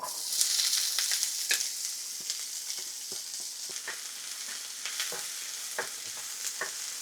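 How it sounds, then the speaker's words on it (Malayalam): Spices fry with onion, garlic and ginger for restaurant-style butter chicken, giving a steady bright sizzle broken by frequent sharp clicks and scrapes of a spoon stirring in the pan. "ഇത് ജസ്റ്റ് ഒന്ന് റോസ്റ്റ് ആയി വരുമ്പോൾ നമുക്ക് സവോള, വെളുത്തുള്ളി, ഇഞ്ചി,"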